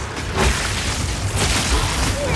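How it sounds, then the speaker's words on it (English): An enemy grenade explodes in Path of Exile 2 in the Mawdun Quarry, a dense, loud boom with sustained rumbling debris noise filling the short moment. "the guy in the back throws grenades"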